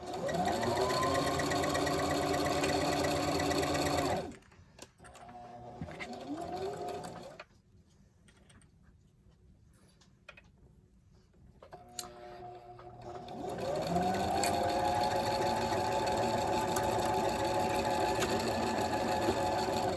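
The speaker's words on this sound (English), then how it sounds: "I'm doing a zigzag stitch" Sewing machine stitching a zigzag seam on a fabric face mask gaiter, running loud and steady, pausing briefly with quiet handling sounds, then whirring up to speed again.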